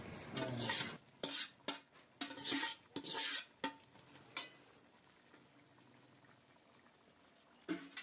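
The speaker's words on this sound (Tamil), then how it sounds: "வெந்த சிக்கன் எடுத்து இதெல்லாம் போட்டு நல்லா மிக்ஸ் பண்ணிகிட்டே இருங்க" Cooked chicken is stirred into a thick gravy in a pot, with a spoon scraping and clinking in repeated close bursts that thin out toward the end.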